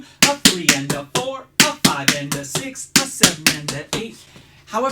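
Tap shoes strike the floor in double cramp rolls, also called flap cramp rolls, as crisp, close, evenly spaced taps in a steady rhythm, while a voice counts along over them.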